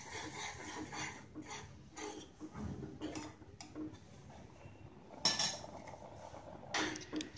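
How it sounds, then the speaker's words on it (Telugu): A spoon stirs roasted semolina into boiling milk in a pot, giving quiet, irregular scrapes and clinks against the metal, with a few sharper knocks, close but faint. "స్టవ్ సిమ్లో పెట్టుకుని ఈ విధంగా కదుపుకుంటూ మనం రవ్వను ఉడికించుకోవాలి"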